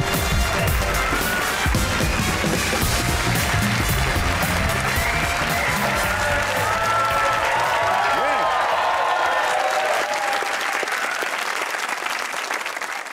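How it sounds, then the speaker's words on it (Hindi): A television studio audience on a comedy talk show claps hard and steadily for the whole clip, a dense loud wash of applause with some cheering that fades slightly near the end. "आज स्टूडियो लरज़ उठेगा, तालियां बजेंगी ऐसी"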